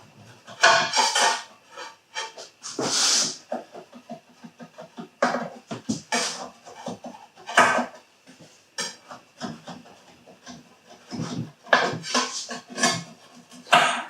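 A blade or spatula scraping around the sides of a baking pan to loosen cooled pumpkin pecan bread, giving close, uneven metallic scrapes and knocks in short bursts with brief pauses between them.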